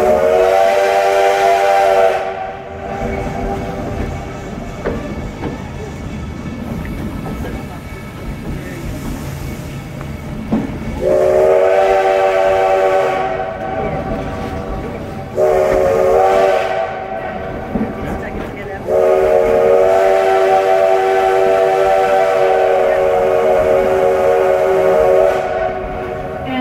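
A train near Keystone blows its whistle in several long, loud blasts, with a steady rumble of rolling cars running beneath and between the calls.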